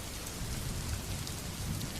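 Steady heavy rain pours down in a constant dense hiss, with a low rumbling of thunder beneath it throughout, no voices.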